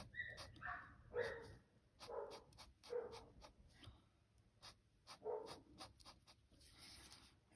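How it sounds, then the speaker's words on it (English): Several outdoor dogs bark repeatedly in uneven bursts at moderate distance, some yips and whines mixed in, over a low steady background rumble. "Dogs and stuff outside barking."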